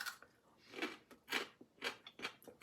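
Pickled daikon radish is bitten and chewed up close, giving about four or five crisp, crunchy bursts in a quiet room with no talking.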